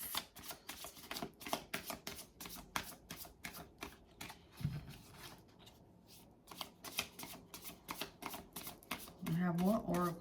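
Tarot cards are shuffled close up in quick riffling bursts of rapid crisp flicks with short pauses between them, while a voice talks quietly throughout.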